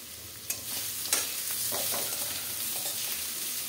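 Grated ginger is stirred into potatoes frying in a pan, with a few scraping spatula strokes and clicks over a constant close sizzle, and no one speaking.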